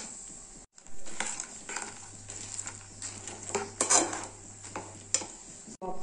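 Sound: stirring roasted peanuts into jaggery syrup

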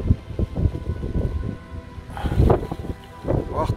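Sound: strong wind tugging at an umbrella

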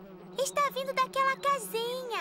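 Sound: bees buzzing around a beehive in a cartoon

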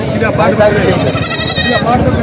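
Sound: goats bleating at a livestock market

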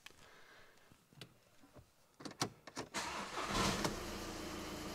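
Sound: car engine starting

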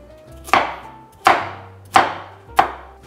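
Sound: knife chopping carrots on a cutting board

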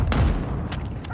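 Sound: incoming mortar fire in the video game Call of Duty: Modern Warfare II

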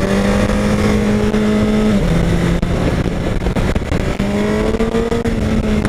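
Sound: Honda CBR 1000 RR Fireblade motorcycle engine at Interlagos

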